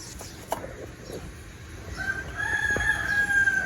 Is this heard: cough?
no